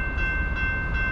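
A westbound Norfolk Southern freight train led by an AC44C6M heritage locomotive rumbles past at Piscataway, New Jersey, a loud, steady low roar with a faint sustained tone above.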